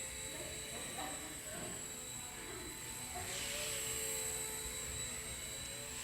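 A Walkera Genius CP six-channel flybarless RC helicopter flies steadily nearby, its high rotor and motor whine continuous throughout and swelling slightly midway, with faint talk underneath.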